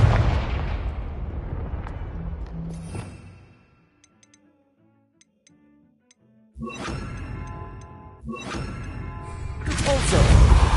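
In the Hogwarts Legacy video game, the Confringo blasting spell goes off with booming explosive impacts. A loud rumbling blast fades into near silence, then further crackling bursts and whooshes build up loudly again.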